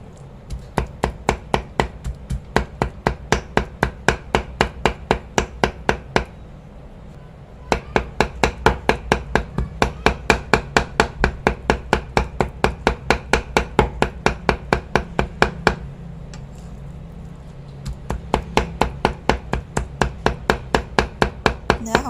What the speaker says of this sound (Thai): เป็นชิ้นเล็ก ๆ สับๆ ให้ละเอียดเลยนะคะ